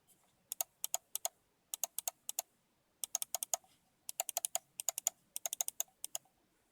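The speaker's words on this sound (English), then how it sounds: "Now I'll do the left click" Left button of a Mionix Naos 7000 computer mouse with a strange-sounding click, pressed repeatedly to give crisp, close clicks in quick pairs and short bursts, separated by brief silences, in a quiet room.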